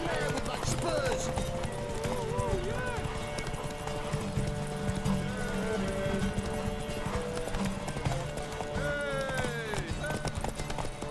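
Hooves of a horse clip-clop rapidly at a gallop in The Witcher 3, a steady, loud, close drumming with whinnies and spoken voices over it.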